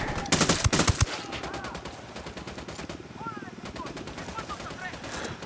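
Mortar and gunfire erupt in a Ghost Recon Wildlands firefight in Caimanes Province, with a loud opening blast and a burst of rapid shots, followed by a steady crackle of distant gunfire that continues throughout.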